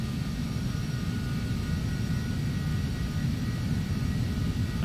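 Airliner jet engines in the Prepar3d v5 flight simulator spool up to takeoff power at Luton, a loud, steady roar with broad rumble and faint whine, continuous and without talk.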